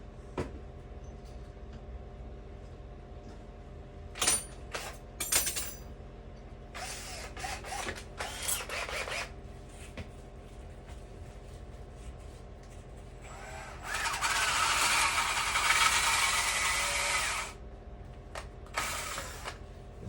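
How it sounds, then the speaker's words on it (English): A 7/8 inch paddle bit drills wing-wire holes into a foam turkey taxidermy body form, heard as a long grinding burst of drilling with a few shorter mechanical bursts and clicks before it, close and fairly quiet. "This is just a 3/4 inch paddle bit, I think."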